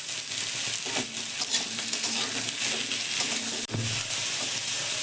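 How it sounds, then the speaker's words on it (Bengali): Bottle gourd fries with salt in a pan over a green chilli tempering, giving a steady, close sizzle with stirring scrapes throughout and no talking. "লাউটা আমার ভাজা হয়ে যাচ্ছে"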